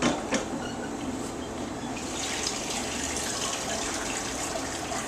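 Clean water gushes steadily from a tap into a mop bucket before a marble floor is polished, a continuous close splashing flow after a brief knock at the start.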